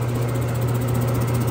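A DoALL band file machine runs in first gear at 145 feet per minute on carbon steel, giving off a steady, even low mechanical hum with a constant drone beneath it and no breaks.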